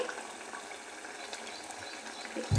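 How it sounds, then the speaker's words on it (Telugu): Rayalaseema-style garlic-chilli sambar bubbling at a rolling boil in a pot, a steady soft seething hiss with scattered small pops, close by and continuous, with no talking. "అదండి బాగా ఉడుకుతుంది చూడండి"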